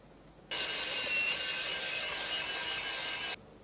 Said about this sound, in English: I'm using an electric grater with the largest grating setting and just grate up all the carrots